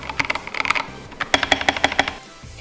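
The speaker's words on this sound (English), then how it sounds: "I do have my custom keyboard" Rapid clacky keystrokes on a custom mechanical keyboard come in two quick bursts with a short pause between, close and crisp.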